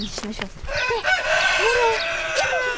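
A chicken crows loudly nearby in a single drawn-out call, preceded by a few short clucks.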